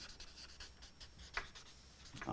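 Short strokes of writing on a board during a lesson, a few quiet scratchy taps and rubs close by with no talking.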